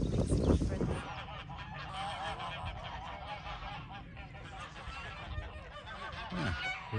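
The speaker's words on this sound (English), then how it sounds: "the geese having a bit of a parlay over there" Several geese honk back and forth outdoors, a noisy overlapping chatter at moderate distance over a steady background hum.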